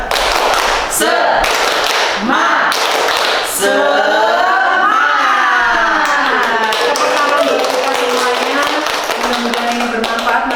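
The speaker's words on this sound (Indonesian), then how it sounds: "Tepuk semangat" A group claps out a rhythmic spirit cheer at a school gathering: loud, close bursts of clapping in a quick pattern, then voices chanting and speaking over scattered claps.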